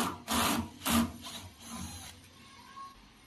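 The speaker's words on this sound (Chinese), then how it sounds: "旁边的螺丝拆出来" Screws being removed from the side of a washing machine's casing with a faulty, burnt-out motor: a few close, grinding rasps of the driver turning, then quieter scraping.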